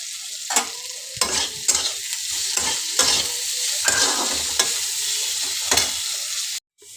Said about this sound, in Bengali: 5 ফোড়ন দিয়ে উচ্ছে কুমড়ো ভাজা।